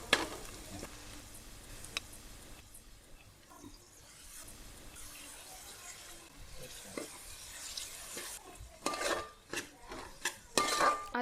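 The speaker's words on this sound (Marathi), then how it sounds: "आता टोमॅटो सॉफ्ट होईपर्यंत आपण छान मिक्स करून घ्यायचं." Onion and tomato frying in a pan for an Aagri-style chicken dish: a faint sizzle runs underneath while a spoon scrapes and clinks against the pan in irregular strokes, growing busier toward the end.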